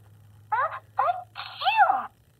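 A Baby Alive Sweet Tears doll toy plays a recorded sneeze: three quick electronic bursts, the last one longer and wavering, loud and close over a faint low hum.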